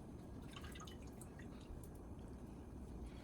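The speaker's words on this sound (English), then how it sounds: "you're gonna add your mushrooms into a cheesecloth, and then you're gonna wring them out into the bowl to make sure you get all of the liquid out of them" Liquid wrung from porcini mushrooms in cheesecloth drips and trickles into a bowl, a soft close patter of drops over a faint hiss, with no talk.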